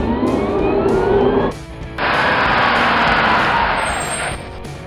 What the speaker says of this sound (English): Electric car.